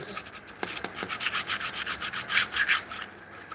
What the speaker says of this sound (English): a strip of sandpaper like this is definitely a bit more better when it comes to just sanding something simple